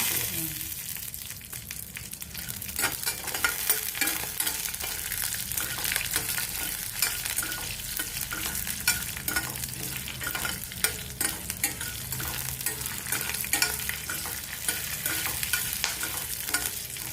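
Something fries steadily in a pan with a dense, continuous crackling sizzle that runs loud and even throughout. Frequent small stirring scrapes sit inside it, and no voices are heard.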